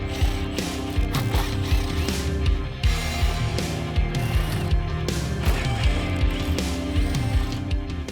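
A ratchet works loose the bolts on a Jeep Wrangler Rubicon tire carrier, its rapid clicking strokes repeating close up with a few heavier metallic knocks between pulls.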